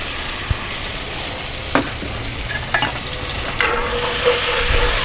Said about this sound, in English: keep getting this stirred around because we don't want it to stick on the bottom here